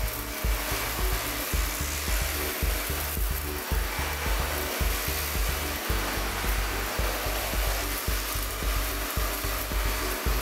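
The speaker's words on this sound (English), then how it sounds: "good thing I had a pretty good vacuum cleaner nearby to clean the mess." A Dyson Ball Animal 2 vacuum cleaner runs continuously up close, a loud steady whooshing drone with irregular low bumps and knocks underneath.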